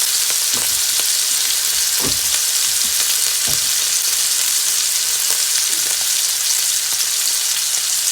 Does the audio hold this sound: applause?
no